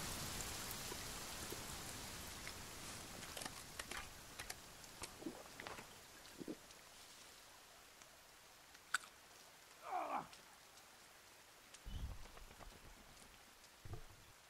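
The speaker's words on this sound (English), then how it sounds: "it's raining hard now" Steady heavy rain in the video game The Forest patters throughout, with scattered drops and a few louder ticks and thumps breaking through the hiss.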